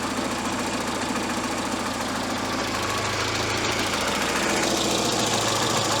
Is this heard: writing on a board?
no